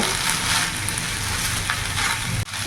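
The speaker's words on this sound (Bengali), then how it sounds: "এইভাবে এখন 3-4 মিনিট একটু ভাতটাকে ভাজা ভাজা করে নেব।" Rice fried with paneer, vegetables and a sprinkle of salt hisses in a pan with a loud, continuous close sizzle, and a brief scraping stir comes near the end.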